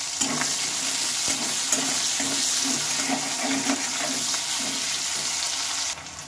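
Sliced onions sizzle in hot oil in a pan with green chillies, a steady frying hiss broken by soft scraping stirs, fairly close and alone, ending with a quieter drop near the end.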